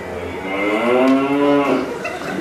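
A cow lowing in a stage performance of the musical Into the Woods, one long, loud, drawn-out moo that rises and falls over about two seconds, heard alone.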